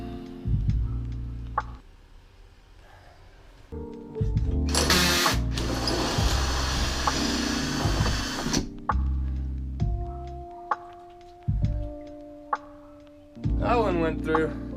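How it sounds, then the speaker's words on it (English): A power drill bores through the roof of a vintage 1984 Ford Shasta camper, with a long loud burst of grinding through the middle and shorter drill runs around it, while people talk between bursts. "I might need to pilot drill it first with a smaller bit."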